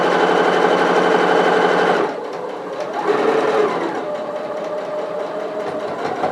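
A sewing machine stitches the corner of an apron pocket, running in a loud, fast close whir for about two seconds, then stopping while the fabric pivots, with a brief softer restart afterward.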